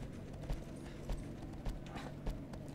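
In Shadow of the Colossus, a horse gallops with steady rhythmic hoofbeats, about two strides per second, moderately loud over a soft ambient game background.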